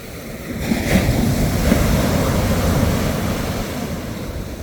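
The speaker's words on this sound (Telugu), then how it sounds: "కళ్ళు మూసుకొని అలల సౌండ్ వినండి" Sea waves at a beach resort, a steady broad roar of surf washing in and out, close and fairly loud, with soft wind noise and no voices.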